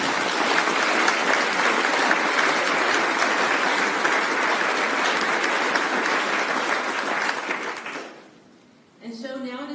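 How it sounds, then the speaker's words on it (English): Sustained audience applause at an Army Corps of Engineers district change of command ceremony, dense and steady for about eight seconds, then fading before a voice begins speaking. "let's give the entire family a round of applause."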